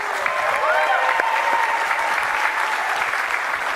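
Loud, dense audience applause at the Xbox One reveal, a steady wash of many hands clapping for the full few seconds.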